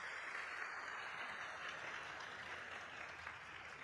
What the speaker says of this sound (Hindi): एक ताली तो बजती है, ताली तो बनती है